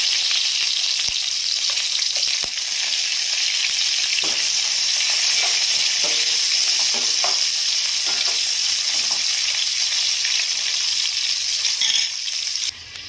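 Slit green chillies and long-sliced onion frying in hot oil, a loud, dense, continuous sizzle with a few sharp clicks from stirring, close up and steady until it thins out at the very end.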